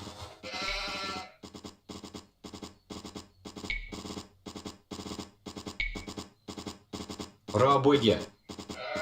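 Sheep bleating in the strategy game Age of Empires II, a few short bleats that stand out among repeated clicks and small game sounds, with a voice speaking briefly near the start.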